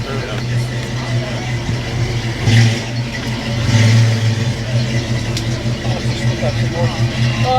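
A 1966 Pontiac Le Mans engine rumbles and revs at an outdoor car show, its low throb swelling in two brief surges over steady crowd chatter and nearby talk.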